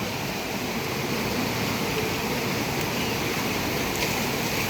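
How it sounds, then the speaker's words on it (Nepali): At a riverside in Gauda, cold river water flows with an even, continuous broadband rush that stays steady and fairly loud for the whole stretch, with no voices. "पानीको आवाज सुन्नु सक्नुहुन्छ चिसो पानी आइरहेछ यहाँनिर"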